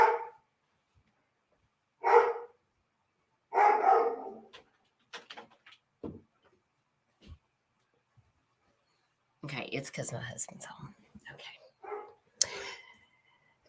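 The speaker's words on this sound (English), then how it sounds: "So just ignore the barking Doberman in the background, please." A Doberman barks in short bursts, several separate barks spread through the clip, fairly close, alternating with someone talking and some rustling handling noise.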